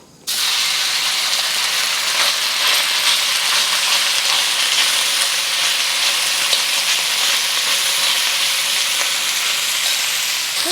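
Beef hits smoking-hot vegetable oil in a wok with a sudden loud burst of sizzle that holds steady, a dense continuous hiss and crackle with no voices.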